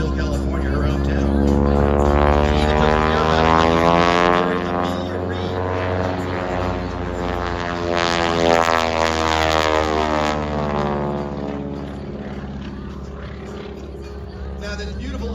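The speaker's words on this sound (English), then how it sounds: "this beautiful open cockpit biplane that she's flying, a 1940 Boeing Stearman" A 1940 Boeing Stearman open-cockpit biplane with a 450 HP engine flies aerobatics. Its propeller engine drones loud and sweeps up and down in pitch as it passes, while someone talks over it.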